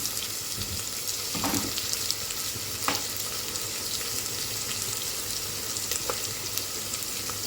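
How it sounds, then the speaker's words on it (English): Onions fry in a pan for chicken biryani, giving a loud, steady sizzle throughout, with a few brief clinks and scrapes. "The onions should be fried till they are little brown."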